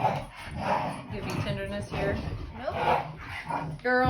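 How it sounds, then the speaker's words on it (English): Two pet dogs whimper, yip and bark intermittently in the background of a home telehealth exam, partly under close speech from a person talking to the patient. "sorry about the noise, that's the dogs"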